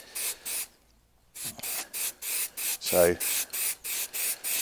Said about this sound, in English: periodically it's just wiping the nozzle because it's a spray can